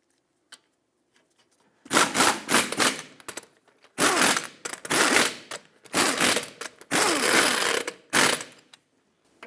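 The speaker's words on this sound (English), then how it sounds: "in a cross pattern, torque them to 79 foot-pounds" A wrench torques the wheel lug nuts on a 2008-2012 Honda Accord, producing several separate bursts of rapid ratcheting clicks with short silent gaps between them, close and clear.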